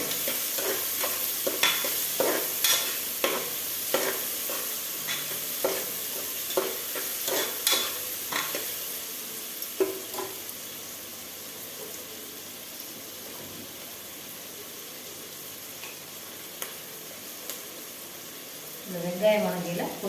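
Onions for chicken biryani sizzle softly in a pan while a spoon scrapes and stirs in irregular taps; the sizzling continues quieter with a brief voice near the end.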